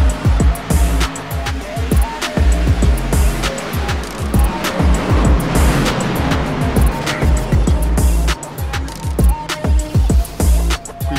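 Race cars roar around Charlotte in the iRacing sim, a dense pack of engines droning loud and constant with repeated shifting pulses and pass-bys, no talk over it.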